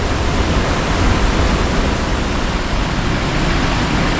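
Jiktang Falls, swollen after heavy rain, roars in a loud, unbroken wash of rushing water heard close and alone.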